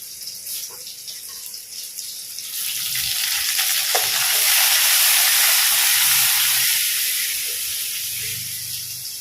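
Curry leaves crackle and sizzle in hot oil with beans and carrots, a broad frying hiss that swells loudest midway, with a few stirring clinks and no talking.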